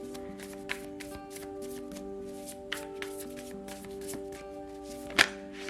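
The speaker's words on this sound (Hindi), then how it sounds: "तो चलिए शफल कर लेते हैं कुंभ एक्वेरियस साइन के लिए" Tarot cards shuffled by hand at close range, a steady run of soft riffling flicks and slaps with a few sharper taps, heard alone against a quiet room hum.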